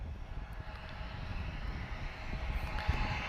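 Nordica airliner operated by XFly on a TP-coded flight to Bilbao at Lisbon Airport, a steady broadband jet engine roar that swells slightly toward the end, heard from a moderate distance with no talking.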